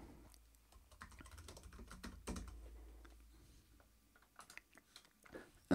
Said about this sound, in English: And then you can type install package.